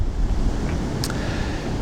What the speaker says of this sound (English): Now it is blowing, as you can see, an absolute hoolie, and it's not making conditions ideal.